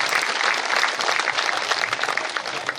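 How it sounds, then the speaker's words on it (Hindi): An audience at a yajna gathering applauds loudly and continuously to welcome a guest, the dense clapping filling the space, with a faint voice underneath. "मैं मोहनलाल जी से ताली बजा के जोर से स्वागत करो"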